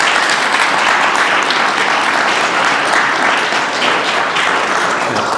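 A conference audience applauding speaker Paul McCain after a supply chain talk, loud dense clapping that stays steady and unbroken from start to finish.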